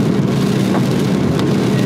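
Steady rain falls in Budapest, a dense, even hiss of drops with a low rumble underneath, continuous and fairly loud throughout, with no voices.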